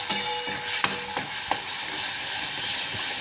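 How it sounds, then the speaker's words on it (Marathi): A spice paste of onion, coconut, ginger, garlic and coriander fries in a pan for a soybean curry, giving a soft continuous sizzle with a few light scraping stirs, fairly quiet and close. "मसाले छान भाजून घेतले आपण"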